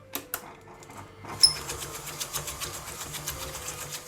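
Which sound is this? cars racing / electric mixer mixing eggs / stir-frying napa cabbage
electric mixer mixing eggs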